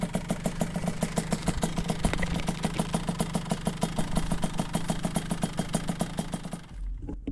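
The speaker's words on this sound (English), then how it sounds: "And look, it's sitting there idling." A 2002 Kawasaki KX65 dirt bike, freshly cleaned carburetor, idles with a rapid, even two-stroke putter heard up close, steady and loud until the engine cuts out near the end.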